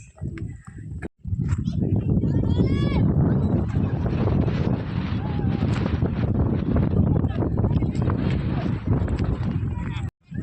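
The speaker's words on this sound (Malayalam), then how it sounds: "നല്ല കാറ്റാണ് ഗൈസ്." Wind buffets the microphone in a steady, loud rush during a sunny family day trip at Vagamon, with a brief drop at the start and end.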